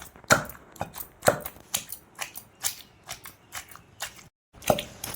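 Onion being pounded with a stone pestle in a stone mortar for a rustic roti chutney gives a run of close, crisp, uneven thuds and crunches, a dozen or so blows at a steady pace with brief pauses, with no voices.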